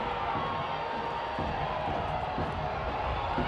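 A stadium crowd at an NWSL women's soccer match between Orlando and Utah gives off a sustained, rising roar of shouts and cheers after a collision between players, loud and filling the whole stretch.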